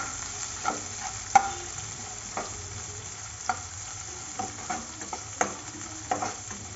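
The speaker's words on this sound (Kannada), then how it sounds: "ಮಸಾಲ ನೀಟಾಗಿ ಫ್ರೈ ಮಾಡ್ಕೊಳ್ಳೋಣ್ರಿ ಎಣ್ಣೆ ಒಳಗೆ" Onion, mustard seeds and cumin frying in oil for a bitter gourd dish, with a low steady sizzle broken by scattered clicks and taps of a spoon stirring the pan, fairly quiet and close.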